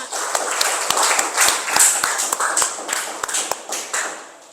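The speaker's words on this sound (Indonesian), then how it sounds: "berikan tepuk tangan untuk kelompok 5" Students clap for group 5 in a university informatics class, a small scattered round of hand claps with sharp individual slaps repeating fairly close by for several seconds.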